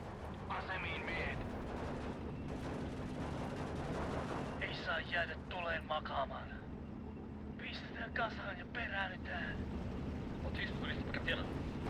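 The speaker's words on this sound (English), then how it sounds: "that's the AT gun" Anti-tank gun firing in a war video game, a few sharp booming shots with crackling decays spaced through the clip over steady low background rumble.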